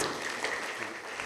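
An audience claps at a church feast of Saint Anthony and the Sacred Heart in Mukundapuram, Nalgonda diocese, making a brief, dense burst of steady applause heard from a moderate distance.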